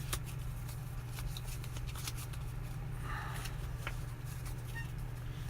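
Cards are shuffled in a steady run of quick, light flicks, close up over a constant low hum.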